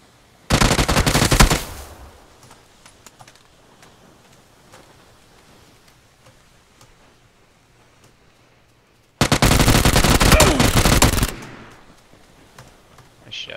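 Video game gunfire comes as two loud automatic bursts, the first about a second long and the second about two seconds, with quiet background between them.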